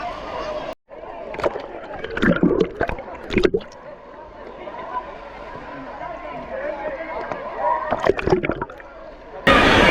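Water sloshes and splashes in a wave pool at Fantasy Park, a water park in Palakkad, Kerala, with surges of churning water under steady crowd noise and nearby voices.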